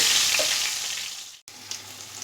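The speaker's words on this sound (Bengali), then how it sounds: "সর্ষের তেলটা গরম হয়ে গেছে এবার আলুটা আমি দিয়ে দেবো" Potato pieces fry in hot mustard oil, giving a loud, steady, close-up hiss and sizzle, broken by a brief cut, then continuing a little quieter.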